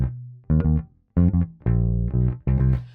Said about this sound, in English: So this next bass line starts on the 3rd finger and also uses a